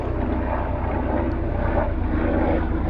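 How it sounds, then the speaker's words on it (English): A steady, continuous aircraft engine drone with a low rotor-like throb, loud and sustained throughout with no talking. "And now we've got the noise of a helicopter too."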